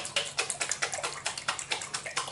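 A spoon stirs a cold picadillo salad with chickpeas in a bowl, making quick, regular wet scraping and clicking strokes, several per second, faint and close with no talk.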